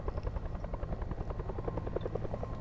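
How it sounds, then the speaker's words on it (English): Rapid, steady rotor thumping from a helicopter in the video game Alpha Polaris chops along continuously, close and fairly loud, with an engine drone underneath and no speech over it. "Sounds like a chopper."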